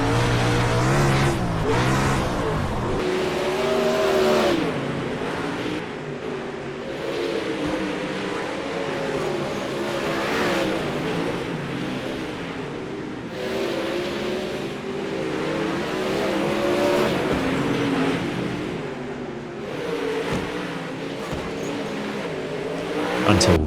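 Sprint car engines roar through a race in the iRacing sim, a continuous loud pack of revving, accelerating motors with shifting pitch and occasional tire squeal, sustained throughout with no talk.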